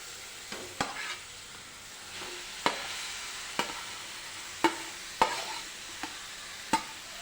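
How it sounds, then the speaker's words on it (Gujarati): Grated beetroot is stirred and roasted in hot ghee in a pan for beetroot halwa, a soft steady sizzle broken by about eight sharp scrapes and taps of a spoon against the pan, close by with no talking. "હલાવી લઈશું તેને આપણે આમ જ ઘીમાં તેને શેકી લેવાનું છે"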